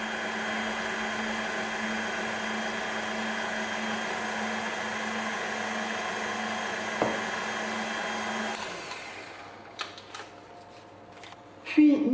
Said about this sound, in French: On continue à fouetter